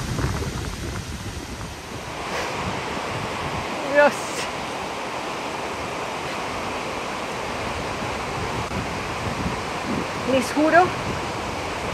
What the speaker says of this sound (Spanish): Nunca en 30 años que tenemos andando por ahí hemos visto una cascada así.